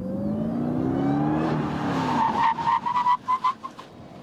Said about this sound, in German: Die Bremsen sind aus Keramik und stoppen dich sofort.